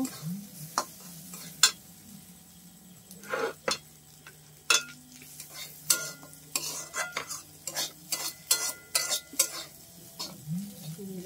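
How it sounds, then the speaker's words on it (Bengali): Lentils (dal) frying and stirred in a pan for khichuri, with repeated scraping strokes of a spoon over a steady sizzle, close and fairly loud, no talking. "ডালটাকে এবার লাল করে ভেজে নেব"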